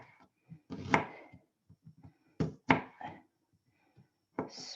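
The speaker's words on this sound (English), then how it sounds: "So I tend to end up just chopping" Garlic chopped with a knife on a board, a handful of close, sharp taps in irregular bursts with quiet gaps between, some strikes landing in quick pairs.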